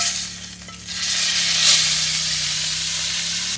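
Steady close sizzle of meat frying in a hot, smoky pan just after a flip, a continuous bright hiss swelling briefly midway, no talk.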